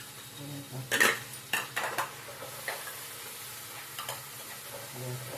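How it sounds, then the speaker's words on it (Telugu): Curry leaves dropped into hot oil in a cooking pan with tomato, a few sharp crackling bursts and utensil clatter, then quieter stirring and a low sizzle, close by and without speech. "అలాగే కరివేపాకు వేస్తున్నానండి"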